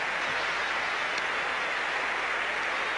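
Cricket crowd at the Sydney Cricket Ground on its feet cheering Clive Lloyd as he reaches his fifty, a steady, broad roar of applause and voices that stays dense and loud throughout with no distinct pauses.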